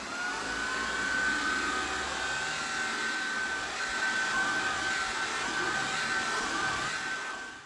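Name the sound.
Shark IZ201UK cordless vacuum cleaning thick pile carpet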